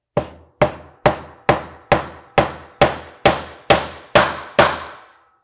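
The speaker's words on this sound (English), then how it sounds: "hammer in that second nail" Eleven evenly spaced hammer blows drive a nail into the wooden snare block of a small DIY cajon, each a sharp wooden knock with a short decay. The strikes grow slightly louder toward the end, close up, with no talking.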